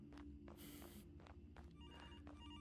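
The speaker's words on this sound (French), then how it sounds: "Ah, attendez, téléphone." Telephone ringing inside the horror video game Graveyard Shift, very faint repeated ring bursts over a low game hum and soft footsteps.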